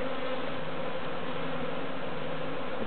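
A swarm of agitated honey bees being moved into a hive box makes a dense, continuous buzz, close and steady throughout without a break.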